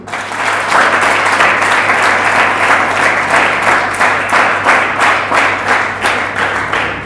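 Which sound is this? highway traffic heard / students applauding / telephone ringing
students applauding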